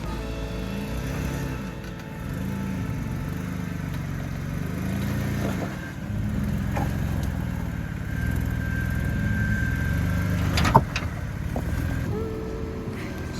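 A Jeep Wrangler JKU crawling uphill off-road at Rausch Creek: a steady low engine drone with slow rising and falling strain, a faint voice underneath, and a sharp knock near the end.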